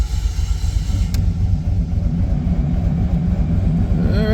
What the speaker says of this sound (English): Alright, it's running.